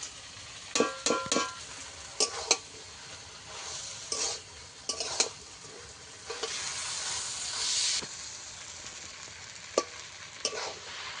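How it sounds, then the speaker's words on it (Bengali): Taro leaves and hilsa fish head being stirred in a wok, a soft steady sizzle broken by repeated sharp scrapes and clinks of the spatula against the pan. "এবার অনবরত নেড়ে চেড়ে ভালো করে রসটাকে শুকনো করে নেব।"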